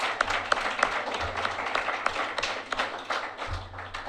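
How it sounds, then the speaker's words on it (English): An audience at an evening youth mental health debate claps for the young debaters, a steady patter of many hands with a few sharper nearby claps standing out, continuing at moderate loudness throughout. "they all deserve a round of applause"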